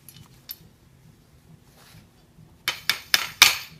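Metal pin tapped out of Midwest Tongs "Gentle Giant" snake grabber tongs: four sharp, close metallic taps in quick succession after a quiet stretch with a couple of faint knocks.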